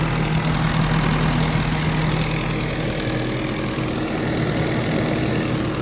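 A 2019 Bobcat E42 mini excavator's engine idles steadily, a continuous low, even rumble with a broad mechanical hum and no voices over it.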